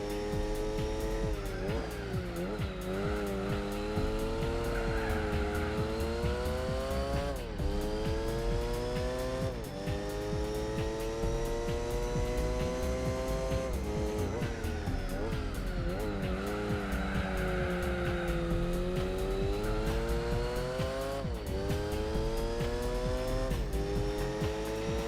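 Race car engine in Gran Turismo 4, a steady loud whine that rises and falls with gear shifts for the whole stretch, with occasional tire squeal and skidding as the car corners.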